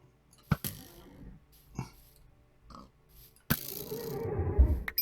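Bat horse creatures in a modded Minecraft-style game make scattered grunting, snorting noises with sharp clicks between them. A denser, rougher burst of sound rises near the end against quiet background.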